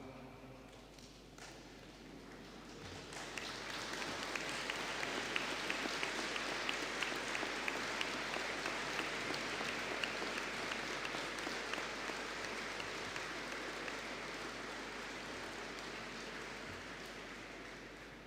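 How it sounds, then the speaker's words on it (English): Graduates at a business and hospitality graduation ceremony applaud their families and friends, a broad, sustained wash of clapping from a large hall that builds after a few seconds and holds steady. "give them a well-deserved round of applause"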